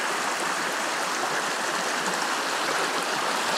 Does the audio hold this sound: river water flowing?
yes